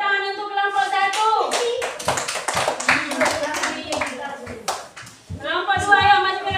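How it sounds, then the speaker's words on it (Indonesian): A classroom group gets a round of clapping from children: several seconds of brisk, uneven hand claps close by, with children's voices singing or chanting before and after. "Tepuk tangan untuk kelompok 1."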